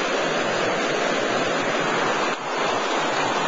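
Stream water rushing past a rock in the Great Smoky Mountains, a steady, full broadband wash that stays close and constant throughout with no voices.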